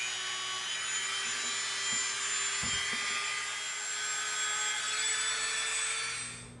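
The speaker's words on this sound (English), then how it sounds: "We're going to make a rivet with our Dremel bit." A Dremel rotary tool grinds into EVA foam, making a steady high-pitched whine that runs continuously and fairly close, with a few faint low knocks partway through and no talking.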